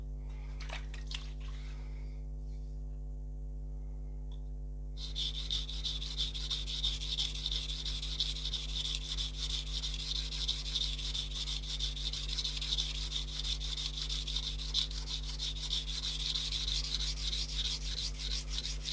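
Steady rasping scrape of a blade on coarse sharpening stones during flattening work, a quiet start giving way after about five seconds to continuous, even grinding strokes over a constant low electrical hum.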